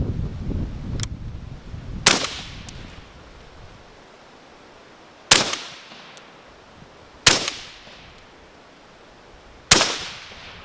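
A REAP Weaponry SCY firearm fires four sharp, loud gunshots a couple of seconds apart outdoors, each crack trailing off in a short echo, with a fainter click before the first shot.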